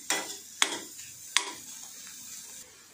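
Stirring and frying in a pan while making a drumstick flower and egg stir-fry, with a few sharp scrapes or taps of a utensil over a soft, steady sizzle, close by.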